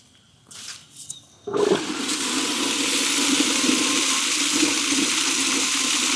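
A fire hydrant is opened for its yearly flush, releasing brown water in a sudden loud gush that settles into a continuous roaring rush, after a few faint knocks and handling noises.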